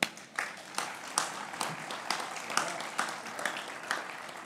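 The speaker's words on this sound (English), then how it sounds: "so please applaud them." Guests at a university president's reception applaud, with fairly quiet, scattered clapping from a modest crowd. Claps peak in loose, repeated bursts and fade between them.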